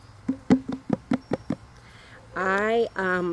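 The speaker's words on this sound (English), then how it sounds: "Drums." Seven sharp, evenly spaced drum hits ring out close and alone, followed by a sustained voice or tone swelling briefly twice.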